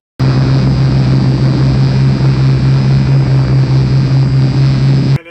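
Small drones fly at a university engineering centre, giving off a loud, continuous propeller buzz with a steady low hum. It runs unbroken for about five seconds and then cuts off abruptly.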